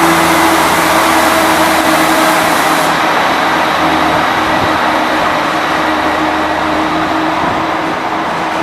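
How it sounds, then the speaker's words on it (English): A steady, loud mechanical roar with a low humming drone from idling train engines close by, including a cross-country Class 220, at a station in Bristol, continuous and unbroken throughout. "we've got a lot of noisy engines, that's what we've got."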